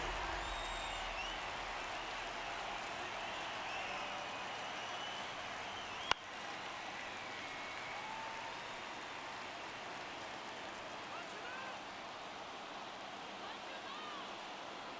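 A stadium crowd murmurs in a steady, even wash throughout a tense ninth inning of an Orioles–Yankees game in MLB The Show 24, with one sharp knock partway through and a commentator's voice sitting faintly in the mix.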